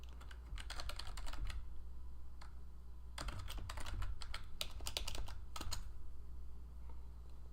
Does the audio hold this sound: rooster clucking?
no